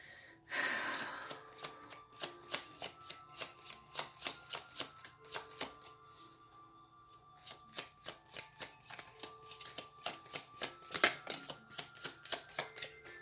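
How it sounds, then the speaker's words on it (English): Tarot cards are shuffled repeatedly at close range, a rapid riffling flutter in bursts with short pauses between them. "I just wanted to do a little bit of shuffling"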